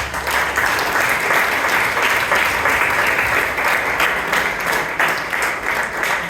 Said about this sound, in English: I think she deserves a real round of applause.